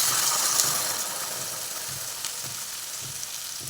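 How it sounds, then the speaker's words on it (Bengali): Soaked mustard paste water hits a hot pan of guru fish curry with potatoes, giving a steady, close, broad sizzle that eases slightly over a few seconds, with faint bubbling pops and no speech. "এবার আমি সর্ষের জলটা দিয়ে দিচ্ছি"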